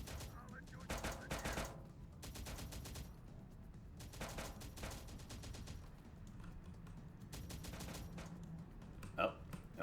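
Machine gun fire in a base-building war game, rapid bursts of rattling automatic shots in several separate volleys across the stretch, moderately distant and faint under a low background rumble.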